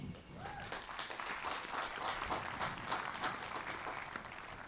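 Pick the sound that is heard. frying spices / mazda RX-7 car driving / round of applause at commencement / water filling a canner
round of applause at commencement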